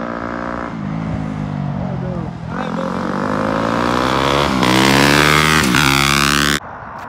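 Dirt bike engine revving close by, pitch rising and falling through several throttle blips and climbing to a loud peak before cutting off abruptly near the end.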